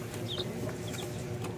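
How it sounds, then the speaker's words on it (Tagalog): Chickens clucking in a pen shared with turkeys, a few short faint calls over steady farmyard background noise, with no voices. "Manok at saka pabo."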